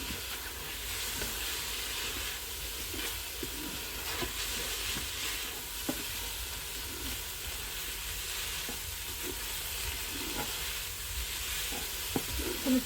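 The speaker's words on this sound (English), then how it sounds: "Now I need to stir these all together for about a minute or two." Chilli con carne mince and spices being stirred in a Ninja pressure cooker on sauté, a quiet steady sizzle with soft scraping spoon strokes and occasional clicks, no talking.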